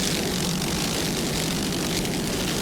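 A 39-foot Fountain offshore racing powerboat, powered by twin 1,040 horsepower Fountain inboard engines with Mercury drives, roars loudly and steadily at the 1999 Key West world championship race, with no speech.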